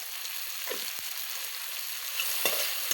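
Spices, chopped tomatoes and turmeric frying in a pan for a homestyle small fish curry, a steady hissing sizzle with a few sharp stirring scrapes and knocks.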